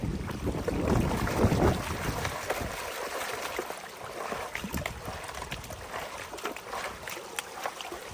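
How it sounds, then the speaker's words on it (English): Gold panning: water sloshes and swirls in a shallow pan with gravelly scraping of rocks, close and continuous, over a steady outdoor wash of flowing creek. "Tilt the pan forward, rake the rocks to the back."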